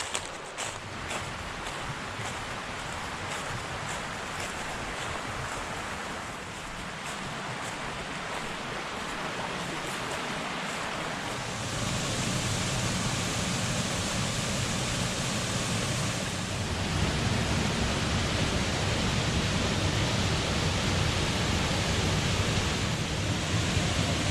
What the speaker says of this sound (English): I hope you enjoyed that video from the bottom of the waterfalls.